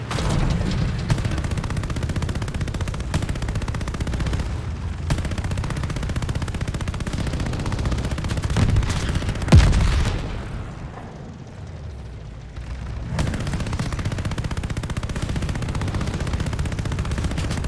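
Sustained machine-gun fire and explosions from the Stalingrad battle in the game Call of Duty Vanguard rattle on almost without pause, loud and dense, with a brief lull near the middle.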